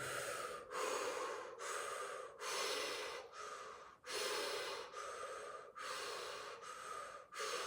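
Deep rhythmic breathing through the mouth during a guided circular-breathing session, with long airy inhales and exhales alternating in a steady cycle of about eight breaths, close and quiet, with no talking.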